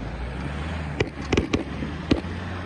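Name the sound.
firecrackers exploding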